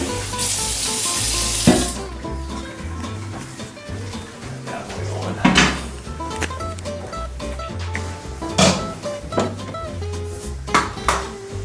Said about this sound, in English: putting a 1/4 to a 1/2 inch of water in the pot to boil the crab.